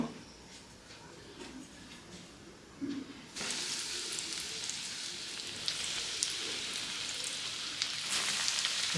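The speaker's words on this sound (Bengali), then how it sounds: "দুটো পরে দেবো, 3টা ভেজে নিই" Shrimp chops hit hot oil, and a quiet background gives way to a sudden, loud, crackling sizzle that continues steadily from up close.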